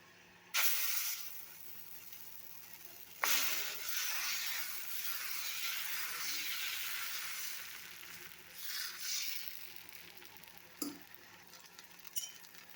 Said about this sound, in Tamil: இப்போ தோசை வார்த்துக்கலாம்.